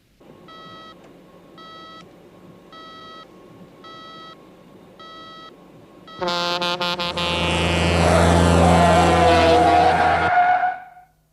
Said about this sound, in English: I've got an E alarm.